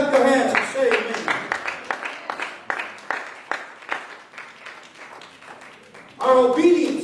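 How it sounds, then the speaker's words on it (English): Church congregation clapping their hands during a sermon, a run of rhythmic, fairly close claps that fades slightly in the middle, with a voice speaking over the start and end. "Clap your hands and say amen."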